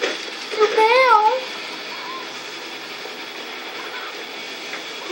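A train passes in Tony Hawk's Underground with a loud, continuous rumbling hiss that fills the scene. A short warbling squeal cuts through near the start, then the steady rolling noise carries on.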